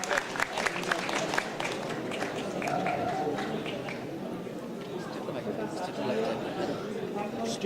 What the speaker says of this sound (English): Let's give the big claps.